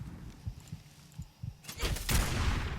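A Blade Fist mod weapon fires in Fallout 4, a series of soft separate gunshot thumps followed by a louder, denser burst of shots and crackling impact noise toward the end.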